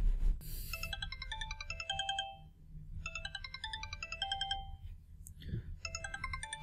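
A mobile phone rings with an incoming call placed from an Arduino GSM shield. A melodic electronic ringtone plays in repeating tonal phrases, clear and fairly close, with brief pauses and a faint background hum.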